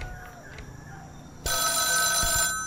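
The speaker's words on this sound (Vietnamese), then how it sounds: "Rồi, có tiếng chuông điện thoại." A telephone bell rings indoors in a bedroom, starting abruptly after a quiet stretch with faint background noise and sounding loud and steady for about a second before fading.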